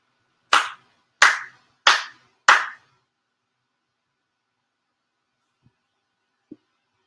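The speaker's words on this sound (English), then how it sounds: "Hiding. 4 sincere claps." Four sincere hand claps at a Japanese prayer service, sharp and evenly spaced, ringing briefly in a quiet room, then near silence with a couple of faint soft knocks.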